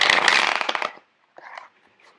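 A deck of tarot cards is shuffled by hand in a dense, crackling riffle lasting about a second, followed after a short pause by a briefer, softer flutter of cards, close and alone.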